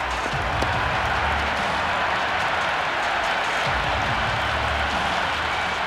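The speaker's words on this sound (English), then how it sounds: "the crowd have joined the party. It's pretty noisy in the ground." A large cricket stadium crowd at a women's league match roars with steady, dense cheering and scattered clapping, loud and continuous throughout.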